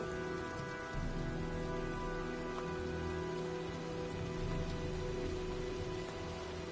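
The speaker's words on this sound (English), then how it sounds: "looks like a storm's coming" Steady rain falls in a video game storm scene, a dense continuous patter with a low rumble and faint background music tones, fairly quiet and with no voices.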